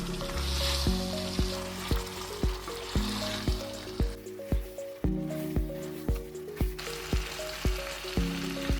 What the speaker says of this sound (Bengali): মশলাটা চিকেন আর আলুর সাথে খুব ভালো করে কষাবো